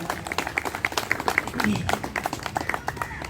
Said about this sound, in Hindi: एक बार हमारे इस झंडे के लिए, तिरंगे के लिए जोरदार तालियां बजा दीजिए आप लोग।